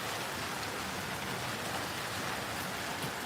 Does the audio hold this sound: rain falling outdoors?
yes